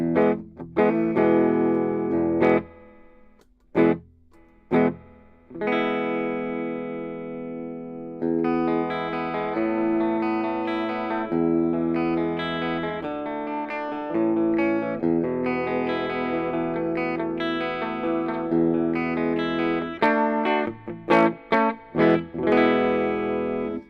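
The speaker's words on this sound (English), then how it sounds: "Now we also got the reverb." Electric guitar chords and notes through a Peavey Bandit 112 amplifier's reverb ring out with a spacious, lingering wash, played in bursts with short gaps between phrases.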